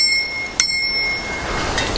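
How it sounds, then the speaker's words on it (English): A bicycle bell rings once, bright and close, on an Engwe EP2 Boost e-bike riding a sandy trail, the single ding standing out over steady wind and tyre rumble. "I've got a bell here,"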